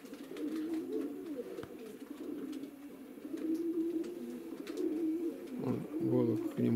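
Pigeons coo repeatedly in a village loft in Poteryaevka in September, their soft rolling calls close and layered over a low background murmur, with faint voices nearby.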